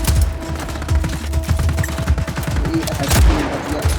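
Rapid gunfire in the video game Just Cause 4 during a firefight, with dense bursts of shots crackling continuously, loud and close, with a heavier blast near the end.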